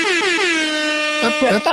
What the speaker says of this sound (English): I'll give you a reason to use the air horn.